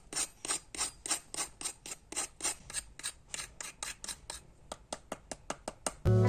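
Crispy gujhiya pastries, fried and non-fried, crunched up close in a quick run of sharp, crackly crunches that become sparser and more clipped toward the end, with no voices.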